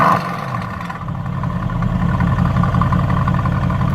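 Mercedes-AMG GT S engine with exhaust mode switched on, a steady, loud droning rumble that builds slightly after the first second, heard close from inside the car with no talk.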